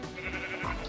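Sheep bleat faintly in a Minecraft game, a short, soft wavering call over a quiet background.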